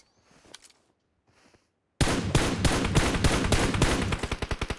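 Video game gunfire erupts after a quiet opening of faint shuffling and distant pops: a loud, dense burst of automatic shots, closing with rapid evenly spaced single cracks.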